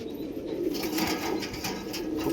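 Many Kalanka pigeons kept at a house coo in a soft, continuous murmur, with overlapping low warbling calls close by and no speech.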